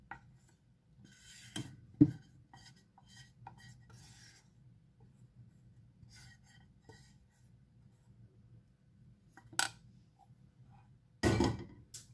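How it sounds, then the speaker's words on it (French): A whisk scrapes through still-warm melted chocolate and mascarpone in a bowl, giving soft, intermittent rasping strokes with a few sharper knocks against the side, fairly quiet and close. "Et on fouette."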